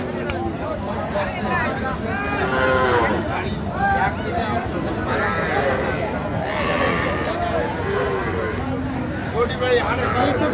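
Sahiwal cattle, around a year old, bellow with repeated drawn-out moos amid the busy Ambari cattle market in Dinajpur, the calls rising over a constant babble of nearby people talking.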